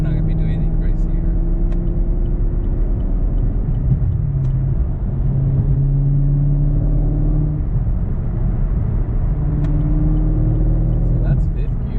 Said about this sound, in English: So that's 5th gear, and it pulls pretty hard, harder than it did before.